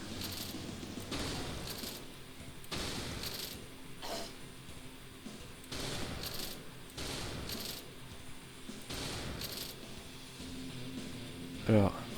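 Gunfire in the video game Brutal Doom comes in repeated bursts of sharp shots at irregular intervals, moderately loud, with someone talking intermittently over the action.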